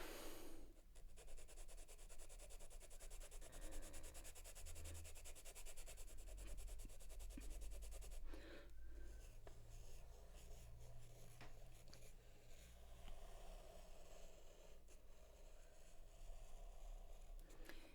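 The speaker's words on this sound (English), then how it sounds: "I might as well swatch the pencil and have a feel of how thick or dark or scratchy or whatever it is" Hard H graphite pencil scratching across paper while swatching, a close, dry scraping of continuous back-and-forth strokes with brief pauses, fairly quiet and with no speaking.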